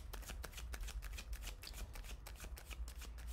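Tarot cards are riffled and shuffled in quick, repeated bursts, close and crisp, with no voices.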